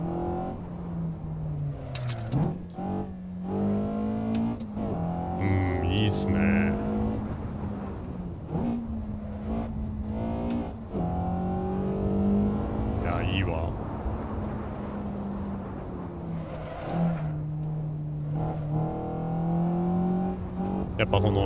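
A naturally aspirated Eunos Roadster engine in the racing game Assetto Corsa drones and revs continuously, pitch rising and falling through gear changes, on a mountain road course, with someone talking over it throughout.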